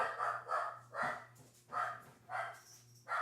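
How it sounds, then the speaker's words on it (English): Indoor dogs bark in a quick series of about six sharp woofs, spaced roughly half a second apart, fairly faint and heard over a steady low hum with no talk. "my dogs are going to bark."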